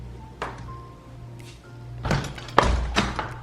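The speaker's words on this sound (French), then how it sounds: "enfin que je ferme la porte." A door being closed indoors during a thunderstorm: a few separate knocks and thuds with a sharper bang near the end, heard close over a steady low hum.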